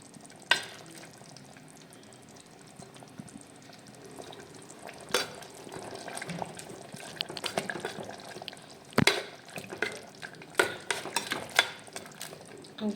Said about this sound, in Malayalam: നമുക്കിത് നന്നായിട്ട് ഇളക്കി നല്ലോണം അങ്ങനെ ഉടച്ചു കൊടുക്കാം